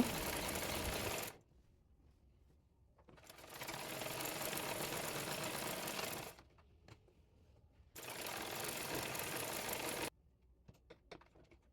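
A sewing machine stitches a kamiz in three bursts of steady whirring, each lasting a few seconds, separated by quiet pauses with small clicks and handling sounds.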